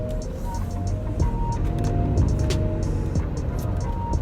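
A Volkswagen 3.0-liter V6 diesel car rumbles with a deep, steady engine drone from inside the cabin, accompanied by faint rattles and ticks.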